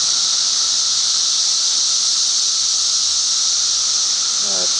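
Cicadas in neighborhood trees drone loudly and continuously throughout, a steady high-pitched buzzing wall of insect noise with a brief faint voice near the end.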